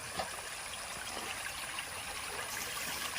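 A small stream in a Kerala village flows steadily with a soft, continuous trickle and gurgle, close by and moderately faint, with no voices over it.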